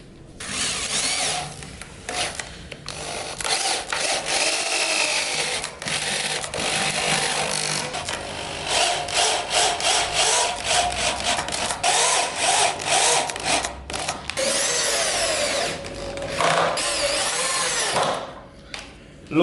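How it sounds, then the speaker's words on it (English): A drill drives screws through wooden table legs while a studio work surface is built: loud, close whirring bursts with rising and falling motor pitch over about twenty seconds, broken by short pauses between screws. "All I'm going to do is send a few screws all the way through it"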